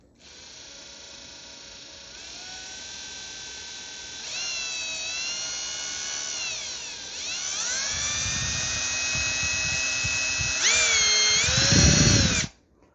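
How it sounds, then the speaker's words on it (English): A high-pitched electric drill whines steadily into wood on a bass guitar build, its pitch rising and falling as it speeds up, with rougher grinding bursts near the end as the bit bites in. "if I drill a hole under this"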